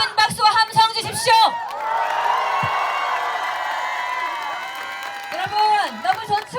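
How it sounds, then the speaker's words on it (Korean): A campaign rally crowd at Dongtan Lake Park bursts into loud, sustained applause and cheering for presidential candidate Lee Jun-seok. Clapping and whoops swell for several seconds before a voice speaks over the tail of the noise. "이준석에게 큰 박수와 함성 주십시오."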